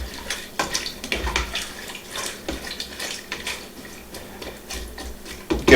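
Jalapeno slices with bay leaves being stirred in pickling liquid in a pot: irregular close sloshing and splashing with occasional light knocks against the pot, fairly quiet and continuous.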